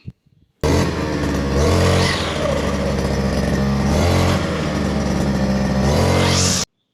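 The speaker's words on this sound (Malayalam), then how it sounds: "വീണ്ടും ഒറ്റ വലി വലിച്ചാൽ തന്നെ ഈ എൻജിൻ സ്റ്റാർട്ടാവും" A small petrol grass cutter engine catches and runs loudly nearby, its buzzing drone rising and falling as it is revved a few times before cutting off.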